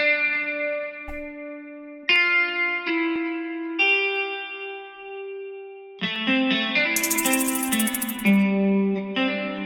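An unprocessed guitar part for a hip-hop beat plays sustained, heavy low-mid chords that sound muddy, changing every couple of seconds and thickening toward the end when more layers come in.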